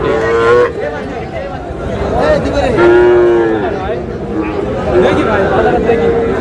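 Cattle mooing loudly and repeatedly at a livestock market in Cumilla, Bangladesh, several long low calls from Sahiwal bulls over a busy background of people talking and crowd chatter.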